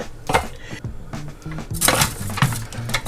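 Canned cranberry sauce drops into a slow cooker pot with pork loin and orange, giving soft wet plops and clinks of metal and ceramic in a close, irregular sequence.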